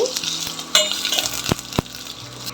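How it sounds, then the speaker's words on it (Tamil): Sliced onions with cumin, cinnamon and star anise fry and sizzle in a pan, stirred with a few sharp scrapes and knocks over steady close crackling. "ஒன்றரை பெரிய வெங்காயத்தை நல்லா ஸ்லைசஸாக வெட்டி வச்சுருக்கேங்க அதையும் ஆட் பண்ணி கிண்டி விட்டுக்கோங்க"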